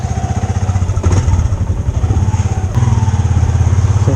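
Motorcycle engine on a ride toward Tinuy-an Falls in the Philippines, a close, steady low drone with slight shifts in revs running unbroken through the whole stretch.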